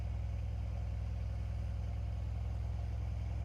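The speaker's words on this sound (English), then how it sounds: "And this is when you put it in Sport Plus." Close, steady idle of a Mercedes C63 S Cabriolet V8 set to Sport Plus, a loud, unbroken low burble with an even rapid pulse throughout.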